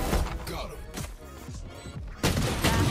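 Bursts of gunfire from the tactical shooter Valorant crack out in quick succession, loud and close, mixed with game effects and a voice talking over parts of the action.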